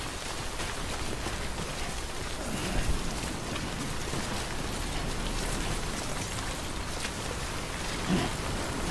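Steady rain pours in the game Death Stranding, a dense, continuous hiss of drops on surfaces that fills the scene evenly from start to finish, with no voices over it.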